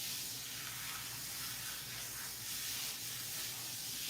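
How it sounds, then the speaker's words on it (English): Heat protectant spray misted onto hair, a steady hissing spray that continues evenly for several seconds, close to the listener, with no talking. "I'm gonna spray her with the heat protectant spray"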